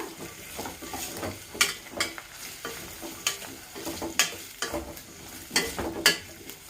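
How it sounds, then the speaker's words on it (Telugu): Potatoes and beetroot deep frying in oil for a vegetable biryani, with a steady hiss and crackle broken by repeated scraping stirs from a utensil, close and moderately loud with no talking. "ఆలు బీట్రూట్ సో ఇవి బాగా డీప్ ఫ్రై అయిపోవాలన్నమాట"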